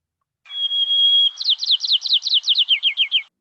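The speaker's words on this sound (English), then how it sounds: "here what you'll hear is another song of a white-crown that is normally raised, and it sounds like this" A normally raised white-crowned sparrow sings its typical song: a clear, steady whistle followed by a quick series of about ten descending buzzy trills, loud and close with no background noise.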